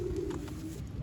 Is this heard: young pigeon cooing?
yes